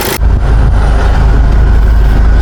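A Kia Sportage 2.0 CRDi diesel engine runs after its injectors and fuel pressure pump were replaced: a loud, close, steady low rumble that settles in after an abrupt start, with no one speaking.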